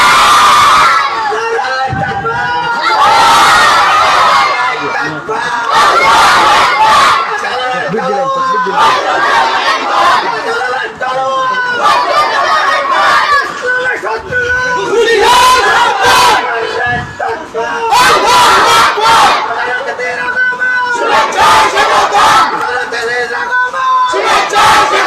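A large crowd at an Islamic gathering in Sylhet roars the takbir battle cry Allahu Akbar in loud, repeated collective shouts, surging and falling in waves over continuous crowd noise.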